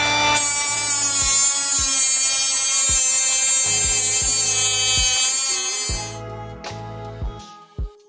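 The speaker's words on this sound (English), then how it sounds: "Now we're going to cut the chain." A power tool cuts through the chain of a Suzuki GSXR 750 motorcycle with a loud, steady high-pitched whine and repeated ticking clicks, winding down near the end, then a few isolated knocks.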